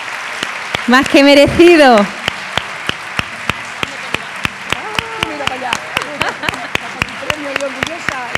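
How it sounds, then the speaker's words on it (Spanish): Audience applause bursts out at a school award ceremony for students, loud clapping for about a second before fading, followed by a sparse string of sharp individual claps and a speaker talking over them. "Un fuertísimo aplauso ahora sí."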